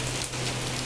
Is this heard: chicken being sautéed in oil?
no